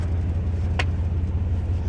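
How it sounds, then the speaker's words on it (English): A car drives by on a road at night while another vehicle pulls out, heard as a steady low engine rumble throughout with a brief sharp burst near the middle. "there's always got to be a car fucking driving by when you're trying to pull out"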